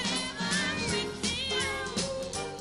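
Several young kittens meow continuously, their high, wavering calls overlapping close to the microphone with no pauses between them.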